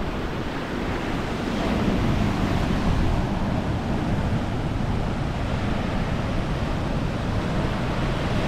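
Heavy ocean surf pounds the black volcanic rock shore near Cap Méchant on Réunion, a loud, continuous roar of breaking waves with steady wind buffeting the microphone throughout.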